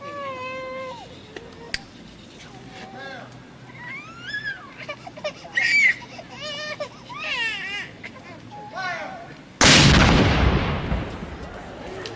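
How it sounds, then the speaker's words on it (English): Near the end, a ceremonial cannon at an outdoor courthouse centennial event goes off in a single loud, sudden blast with a long fading rumble. Before it come a crowd's murmur and shouted voices. "Cannoneers, prepare to fire your weapon."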